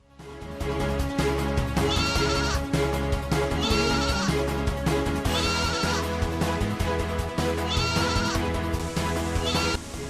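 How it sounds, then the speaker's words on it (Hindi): Goats bleat repeatedly in the grounds of a primary school in Azamgarh, their loud, wavering cries recurring in bursts over a dense, continuous mix of steady tones that sounds like background music. "विद्यालय के मुख्य द्वार पर बकरी"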